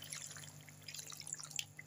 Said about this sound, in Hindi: अब इसके अंदर हम 1 कप पानी डालेंगे